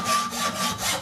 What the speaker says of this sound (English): like when you use the sandpaper with a wood.